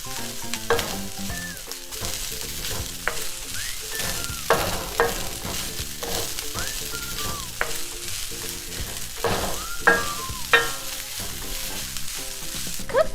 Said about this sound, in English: Now add in your rice. Start to stir.